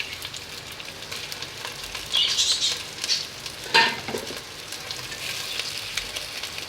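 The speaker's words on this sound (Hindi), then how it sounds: "गोश्त को हम भूनेंगे अच्छी तरीके से।" Steady sizzling of mutton frying in a hot pot for mutton kunna, with occasional louder spatters and stirring scrapes, close and continuous.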